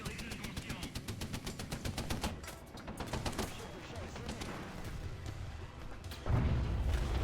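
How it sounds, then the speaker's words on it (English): Rapid bursts of video game gunfire pelt the player in Apex Predators, a dense rattling fusillade of shots with heavier booms, steady and close throughout, growing louder toward the end. "There's a dude riddling me with bullets over here."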